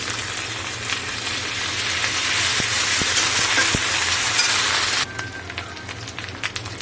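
Ginger-garlic paste fries in a pan with browned onions, a dense, loud crackling sizzle with a few stirring knocks that drops off sharply partway through, leaving quieter scattered ticks.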